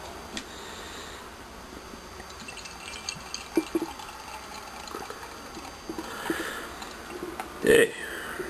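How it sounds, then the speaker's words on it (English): A Glutaner sorghum-based premium pilsener, brewed with teff, rice, yeast and hops, is poured into a glass, giving a faint, soft liquid trickle under steady background hiss, with a brief louder noise near the end. "so we're gonna pour it now."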